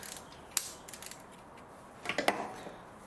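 A socket wrench on a 13mm bolt releases the belt tensioner on a VW Polo engine, making faint ratcheting clicks and a short burst of mechanical creaking near the end. The sounds are quiet and close, with no talk.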